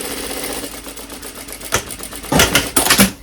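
A sewing machine stitches a fabric strip with rapid, rhythmic mechanical clatter close by, the bursts growing louder and more pronounced toward the end.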